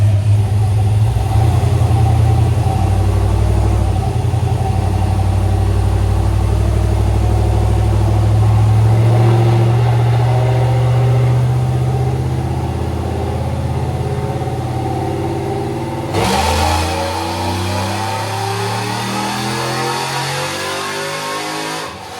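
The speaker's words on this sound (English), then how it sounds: "we're going to begin some wide open throttle tuning." A Gen 3 engine in an extended cab truck runs at wide open throttle on a dyno, roaring and climbing in pitch for about fifteen seconds before an abrupt drop to a lower, rougher drone; loud and close.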